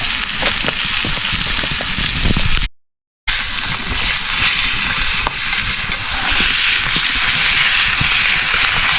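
Steak sizzles and spits over an open flame outdoors, giving a loud, dense, continuous hiss with crackling pops throughout, briefly cut off once near the start.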